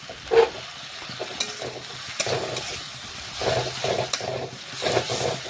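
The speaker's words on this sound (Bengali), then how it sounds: "নাড়াচাড়া করে মশলার সাথে ভালোভাবে টমেটো মিশিয়ে নিচ্ছি।" Chopped tomato with spices is stirred in a frying pan for a Bengali fish and eggplant dish, producing soft repeated scraping strokes over a quiet sizzle, fairly faint and close.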